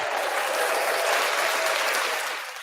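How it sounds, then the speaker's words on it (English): A live crowd applauds a comedian who is being introduced, a steady, dense wash of clapping that lasts the whole time and fades slightly at the end, with no clear talking. "I want y'all to give it up for Dany Redwine, y'all."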